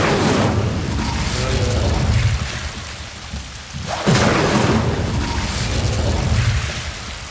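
An Incendio fire spell is cast in the video game Hogwarts Legacy, with loud, roaring bursts of fire over a steady noisy backdrop, one near the start and a second sharper burst midway.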